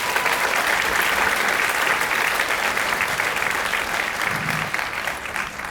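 Sustained audience applause at a high school wind ensemble concert as a student is recognized, dense steady clapping filling the room throughout, tapering slightly at the end.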